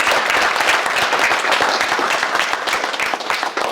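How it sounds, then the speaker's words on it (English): An audience at a boys' orientation at a country club applauds the volunteers, teachers and drivers, loud, dense, steady clapping from many hands, close and continuous. "let's give them a big round of applause."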